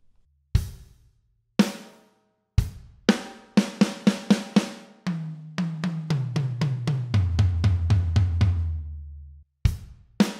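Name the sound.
drum fill from a song's verse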